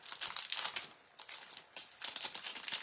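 Paper stencil sheets of one-inch Mardi Gras lettering are torn up and crumpled close by in two bursts of crisp ripping and crinkling with a short pause between, alone without talk.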